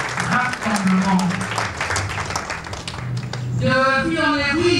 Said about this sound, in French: On applaudit encore une fois de plus pour ce grand rassemblement.